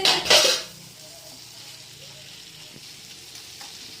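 Spice paste being fried down in a pan for a meat curry, with a loud burst of sizzling and stirring at the start, then a quiet low sizzle continuing beneath, with a few faint clinks of utensils.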